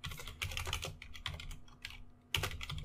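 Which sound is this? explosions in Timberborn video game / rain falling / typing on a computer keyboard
typing on a computer keyboard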